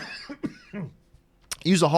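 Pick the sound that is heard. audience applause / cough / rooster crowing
cough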